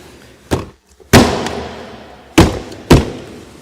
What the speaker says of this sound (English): So here, you will already hear the noise of the first clip